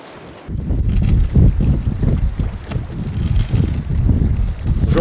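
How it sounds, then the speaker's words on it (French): Strong headwind roars against a canoe on the Feuilles river in Nunavik, a loud, gusty low rumble of wind buffeting the microphone, rising after a quieter half-second start and surging steadily, with faint water noise beneath and no voices. "le vent est vraiment violent contre nous"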